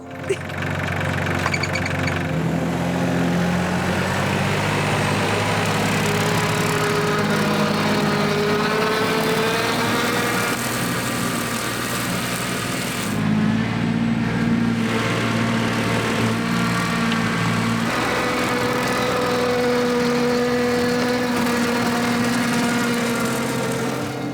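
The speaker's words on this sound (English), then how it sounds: "the tractor is for whizzing round and just cutting the grass" A steady, loud engine drone runs throughout, like a tractor mower working nearby, its pitch wavering slightly as it moves over the grass.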